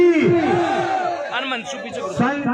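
A rally crowd chants a slogan for Tejaji Maharaj in a loud, ragged chorus of many voices, a leading call followed by swelling group responses.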